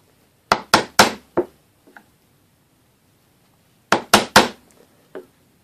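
Sharp hand-chisel work chopping and levering out a mortise in wood for a 6mm bare-faced mortise and tenon joint: two loud clusters of three or four crisp knocks, separated by a quiet pause, with a lone tap after each group.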